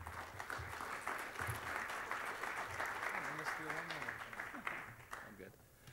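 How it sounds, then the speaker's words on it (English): Audience applause for a guest speaker at a university executive lecture, a steady wash of clapping from a seated crowd lasting throughout and tapering near the end, with a voice talking faintly underneath. "Let's give him a round of applause."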